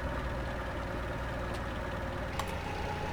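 An upgraded hybrid car idles in a racing game with a low, steady engine rumble that stays even and fairly quiet throughout, and a couple of faint higher ticks come through near the end.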